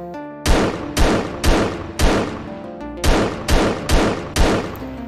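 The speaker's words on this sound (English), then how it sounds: "It is a semi-automatic Glock. And after adding the right effects, shooting feels pretty nice now." Semi-automatic Glock pistol shots in a Unity mobile zombie game, eight loud sharp reports fired one by one in a steady rhythm with brief ringing tails and no talk.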